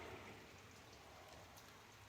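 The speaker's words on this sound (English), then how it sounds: "It's raining and I don't want to get wet." Steady rain falls on a Central Texas homestead garden, a constant dense hiss with scattered drops, close and even in level throughout, with no talking.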